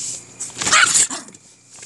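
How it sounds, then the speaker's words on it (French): A dog's single loud bark bursts out up close for a moment, then fades into quieter room sound. "Chien qui faisait de la merde encore."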